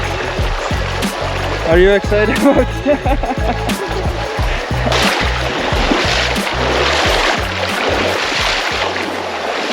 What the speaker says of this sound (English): So there's a nice river here.